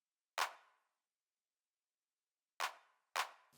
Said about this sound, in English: I am layering up this clap,